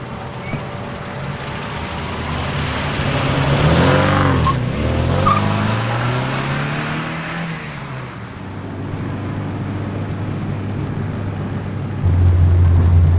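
A stolen red Ford Cortina in a West Midlands police pursuit roars past close by, its engine surging and then fading, with tyres scrubbing and a steady engine drone continuing underneath, growing louder near the end.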